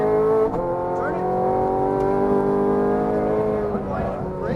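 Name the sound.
Ferrari F430 Scuderia engine under throttle on track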